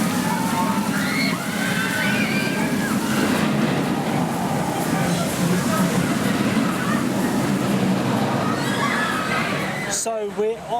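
A rapids boat ride at Drayton Manor theme park splashes and sloshes through rushing water, with continuous churning and voices talking and shouting over it, ending with a sharp clatter.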